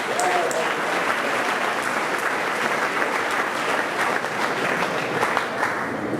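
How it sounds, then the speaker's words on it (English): Audience applause at a university student venture showcase, a full, continuous wash of clapping from a packed room, steady throughout with a voice faintly audible beneath it. "let's give a round of applause for the..."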